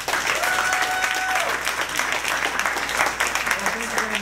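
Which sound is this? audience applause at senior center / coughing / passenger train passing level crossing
audience applause at senior center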